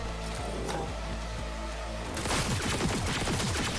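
Rapid gunfire bursts in Cyberpunk 2077 from the player's gun, a rifle handled like a shotgun, cracking repeatedly and loudly over a busy game soundscape, the shots packing densely together in the second half.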